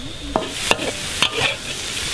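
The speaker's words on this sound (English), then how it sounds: "so he's just stir frying all of that" Metal scraping and clanking of a spatula stir-frying quail in a wok, several sharp strokes over a steady background hiss.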